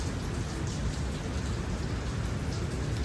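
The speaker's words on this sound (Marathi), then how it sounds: "समोर पडते पाऊस." Steady rain falls outside beyond an open gate during a monsoon downpour, a dense continuous hiss of drops on surfaces, even and unbroken throughout with no voices.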